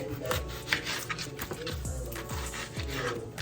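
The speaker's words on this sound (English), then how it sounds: "I'm gonna cut up some onion real quick." A knife cuts through an onion on a cutting board during home soul-food cooking, producing a series of sharp, close knocks at an uneven pace over steady kitchen background noise.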